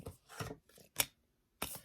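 Tarot cards are pulled from a deck under a desk, giving a few quiet, dry rubbing and sliding swishes with one brief sharp snap, close but soft.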